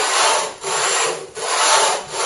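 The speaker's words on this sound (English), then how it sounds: "as I'm sanding this, I'm making it go around in circles so the bottom ends up evenly" Steady rhythmic sanding of a grass tree wood bowl's bottom, rubbed in circles on a sandpaper board: three long abrasive strokes with brief dips between, a dry scratchy rasp close up with no voices.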